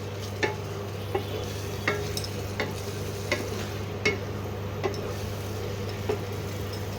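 Tomato paste for coriander chicken is sautéed in a pan over a low, constant sizzle. A spatula taps against the pan in a steady rhythm, roughly every two-thirds of a second.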